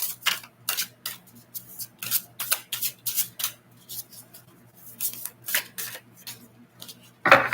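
Oracle cards are shuffled by hand in quick, crisp riffling bursts at close range, with a soft pause between each flurry and no talk.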